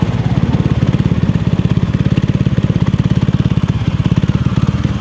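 A motorcycle engine on a long ride runs at a steady, rapid, even pulse, loud and close throughout with no talking over it.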